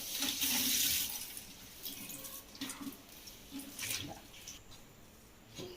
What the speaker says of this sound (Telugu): ఇది ఇలా మొత్తము ప్రెస్ చేసేసేయండి వాటర్ అంతా పోవాలి